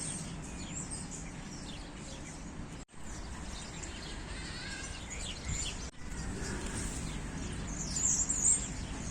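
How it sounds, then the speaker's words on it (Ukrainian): Birds chirping and singing outdoors in a Kyiv park, amid a steady background hiss, with small calls scattered through, faint and fairly distant. "Послухайте, як співають пташки."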